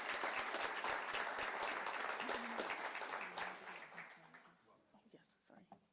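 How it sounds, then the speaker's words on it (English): An audience applauds at a college signing day ceremony, a loud burst of many hands clapping that fades out over the last seconds as a few voices murmur. "please join me in applauding the next generation of business administration professionals"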